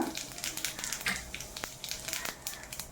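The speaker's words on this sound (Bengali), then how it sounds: "এখন আমি তেলে 1 চামচ জিরা," Cumin seeds fry in hot oil in a pan used earlier to fry potatoes for a shol fish curry, giving quiet, irregular crackles and pops over a soft sizzle with no voices.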